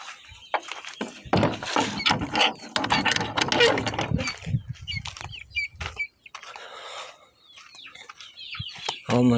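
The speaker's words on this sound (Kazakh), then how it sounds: "Мынаның бәрі қораз." A flock of young incubator-hatched roosters, Kuchinsky Jubilee and Australorp, cluck and call in bursts at close range, with clattering and scratchy mechanical noises between the calls.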